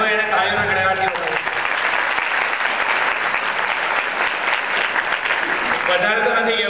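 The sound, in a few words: audience applause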